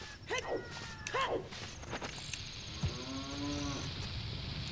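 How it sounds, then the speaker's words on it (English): Cows lowing inside a cave grotto in the Ocarina of Time video game: two short moos early, then a longer, drawn-out moo, moderately loud over a faint game ambience. "Oh, I think this is just a cow grotto."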